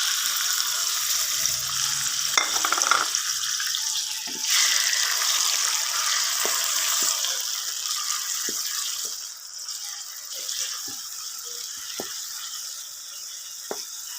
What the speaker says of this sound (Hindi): और ये मैं टमाटर डाल रही हूँ।